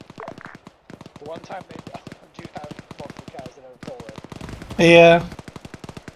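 Rapid automatic gunfire in the military shooter ARMA 3, a dense burst of shots heard under steady radio-style team chatter, with one louder nearby blast near the end.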